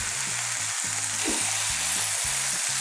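Ridge gourd pieces with turmeric and salt sizzle and fry steadily in a pan, the constant hiss punctuated by a few soft stirring scrapes, with a low background hum and no talking.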